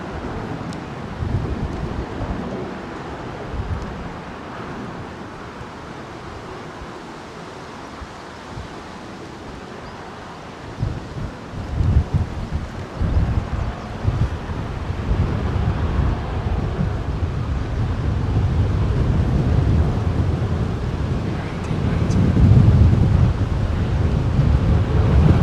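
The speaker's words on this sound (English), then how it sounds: "sounds blustery today. Crosswind down the runway." Blustery crosswind buffeting a microphone at Heathrow Airport runway 09L, a continuous low rumbling roar that swells and gusts, growing louder toward the end, with no voices.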